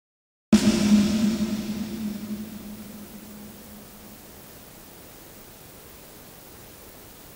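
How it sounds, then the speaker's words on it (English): Audio dither noise shaped with more low end and less high end, a steady hiss that bursts in loud after a brief silence, with a low-frequency rumble fading over several seconds, then settling to a quieter constant wash. "The noise sounds very different to Reaper's noise-shaped dither, with more low-end and less high-end."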